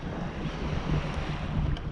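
Steady wind and breaking ocean surf at a beach, a continuous broadband wash with gusty microphone buffeting throughout and no voices.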